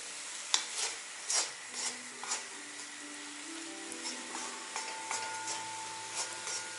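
Meat and potatoes with onion and carrot are stirred in a kazan, with a spoon scraping and knocking the pot in irregular strokes over a soft sizzle, all close by.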